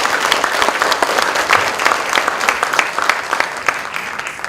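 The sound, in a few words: audience applause for guest at a lecture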